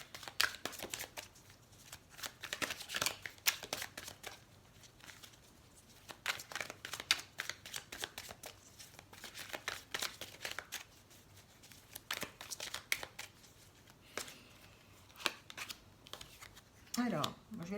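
Tarot cards being handled on a table make bursts of close, crisp shuffling, sliding and flicking, with pauses between handlings and a quiet voice at times.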